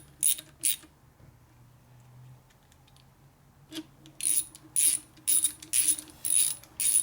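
A ratchet clicks in short, quick bursts while motor bolts are tightened down on an engine assembly, with several rapid ratcheting runs close up against a quiet background.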